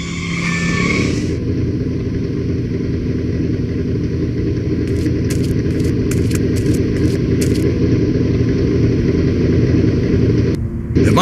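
The DeLorean's engine in the Back to the Future video game roars loud and steady for about ten seconds, a dense rumbling drone with faint clicking over it and a brief dip near the end.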